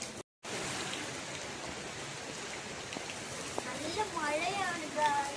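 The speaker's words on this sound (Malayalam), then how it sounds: "മഴയാണ് ഗായ്സ്." Rain falls steadily outdoors as a constant broadband hiss, with faint voices rising toward the end.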